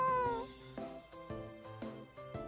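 A voice from the video game Nekopara Vol. 2 mimics a cat with drawn-out, meow-like tones repeated in short phrases, close and clear.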